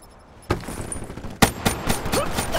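Automatic gunfire in the video game Call of Duty: Black Ops 3, a quick run of sharp shots in several bursts over background game noise, with no talking.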